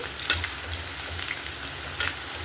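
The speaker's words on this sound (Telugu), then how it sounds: "½ కేజీ ముక్కలు కదా, నేను ఇలా 2 సార్లుగా ఫ్రై చేసేస్తాను." Chopped ladyfinger (okra) pieces, half a kilo fried in batches, frying in hot oil in a pan: a steady close sizzle with a couple of sharper crackling pops and soft stirring noises, no talk.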